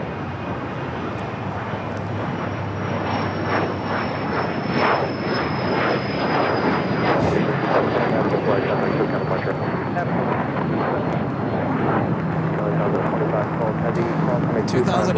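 A jet airliner rolls and roars along runway 25 at Los Angeles International Airport, a loud, steady engine rumble with a high whine, nearby and continuous over the whole stretch, with some talk underneath.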